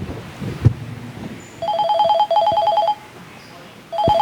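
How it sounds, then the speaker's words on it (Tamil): Telephone bell rings in repeated bursts of bright trilling tones, loud and close, with a brief pause between rings and some low background noise and a thump before the first ring. "ஃபோன் அடிக்கி இப்போ மாட்டோம் பாரு"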